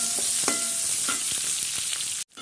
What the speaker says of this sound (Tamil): இப்போ நறுக்கி வச்ச வெங்காயமும் போட்டுக்கணும்